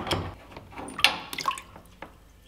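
Water drains out of newly installed multilayer plumbing pipe in irregular splashes and drips, with a few sharper spattering bursts against a quiet background.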